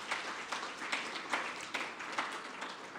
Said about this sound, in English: Let's clap for them even more.